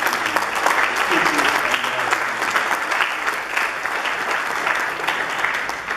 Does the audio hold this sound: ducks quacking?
no